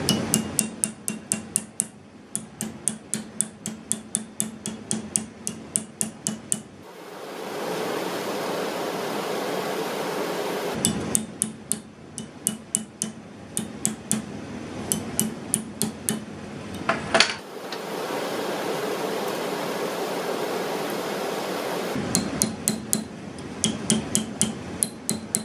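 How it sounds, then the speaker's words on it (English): Sharp metallic hammer taps on fireplace door metal held in a bench vise, in quick bursts of rapid strikes separated by stretches of steady hiss, close and clear. "I'm just going to go to the bench vise and we're going to tap it over with a hammer"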